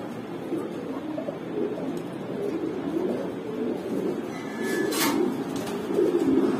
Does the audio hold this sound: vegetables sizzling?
no